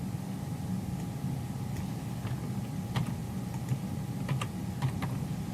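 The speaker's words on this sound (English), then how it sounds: "I'll type this in" Computer keyboard keys tapped in short, irregular clusters of clicks during a math lesson on first-order linear differential equations, moderately close over a steady low hum and room noise.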